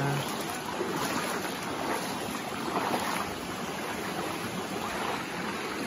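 A river crossing on the way to a hot spring, heard as a steady broadband rush of flowing water, continuous and fairly loud, with no talking over it.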